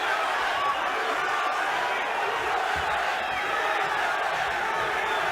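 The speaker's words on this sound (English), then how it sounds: "The crowd is chanting USA, which is where Tank is from." Arena crowd at a 1995 UFC 6 bout featuring Tank Abbott, a steady roaring wash of many voices that holds loud and unbroken throughout, with no separate chant rhythm standing out.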